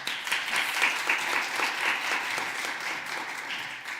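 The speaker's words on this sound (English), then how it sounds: "Big applause." A roomful of forum attendees applauds, with dense clapping holding steady and then easing slightly toward the end.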